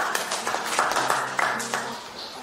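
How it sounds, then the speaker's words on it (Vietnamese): An audience of listeners gives a child a short round of scattered, irregular claps after a schoolchild's story, with a few sharp claps spread over a couple of seconds. "Hay quá, vỗ tay."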